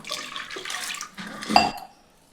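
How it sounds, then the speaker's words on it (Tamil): Water splashes and swishes in a pot as lentils are rinsed by hand, with a brief louder slosh near the end before it falls quiet. "அதுக்கு பருப்பை முதல்ல கழுவிக்குவோம்."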